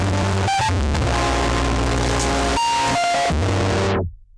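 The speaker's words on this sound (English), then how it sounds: "Moving right along, you've also got distortion." Distortion effect on a Novation Circuit Rhythm groovebox, a loud saturated, buzzy wash of crushed tones with brief dropouts, cutting off sharply at the end.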